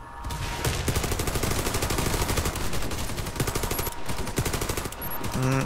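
Dense video-game gunfire in a Pripyat co-op mission, rapid automatic bursts from several players firing continuously and loudly throughout, with brief gaps and a few sharper single shots near the end.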